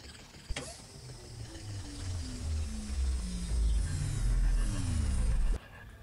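A spinning crystal during a crystal opening in Marvel Contest of Champions gives off a steady mechanical whirring that rises and grows louder over several seconds, with ratcheting ticks that slow toward the end, and then cuts off abruptly.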